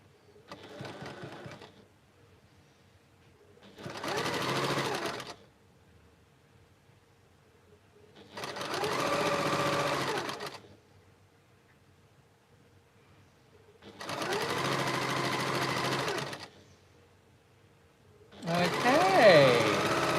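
A sewing machine stitches quilt block pieces in four separate bursts of rapid, buzzing needle action, each lasting a couple of seconds, with quiet pauses between them.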